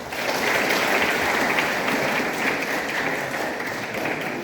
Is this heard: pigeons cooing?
no